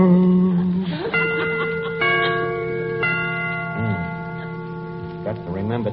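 Clock chimes ring out in a sequence of sustained, resonant tones, each strike overlapping the last, fairly close and loud.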